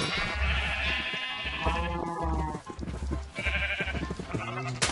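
Sheep in the Minecraft video game bleat repeatedly in a loud, overlapping chorus of wavering cries, layered over game background sounds for the full stretch.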